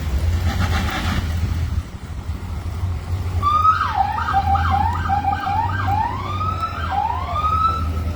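Ambulance siren carrying a shooting victim away from a Chicago street scene, a wailing and yelping electronic siren sweeping up and down over a steady low engine rumble, fairly close and loud throughout.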